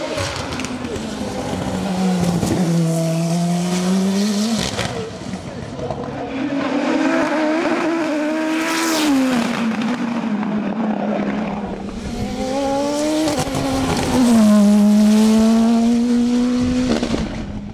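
Revolt 3P0 Turbo sport race car at the Limonest - Mont Verdun hill climb, its engine revving up and down through repeated gear changes as it passes, loud and close, with a commentator speaking over parts of it.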